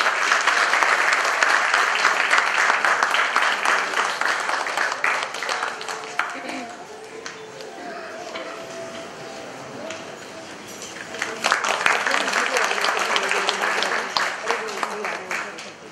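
Audience applause for guests at a literature festival inauguration ceremony in Ahmedabad, hearty clapping that dips to a lighter patter under an announcer's voice midway, then swells again to full applause.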